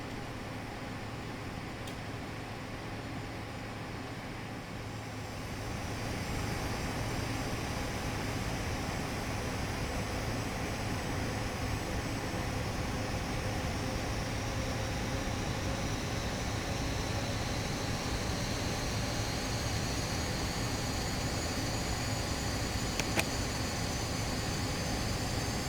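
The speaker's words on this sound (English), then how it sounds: "I'll be quiet now so you guys can enjoy the takeoff" Steady roar of a QualityWings Avro RJ85 jet spooling up for takeoff in a flight simulator game, a constant broadband engine wash that rises after a few seconds and holds with a faint climbing whine.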